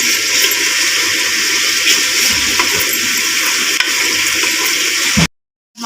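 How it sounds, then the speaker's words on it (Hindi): Water added to spices roasting in a pan, a loud steady sizzle and bubbling hiss with faint stirring scrapes that runs for several seconds and then cuts abruptly to silence. "साथ साथ थोड़ा पानी लगाएंगे और इन मसालों की अच्छे से हम भुनाई कर लेंगे"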